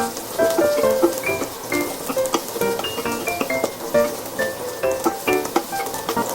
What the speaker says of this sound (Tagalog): Lagyan na natin yung sibuyas tsaka bawang. Gisa muna natin yung sibuyas.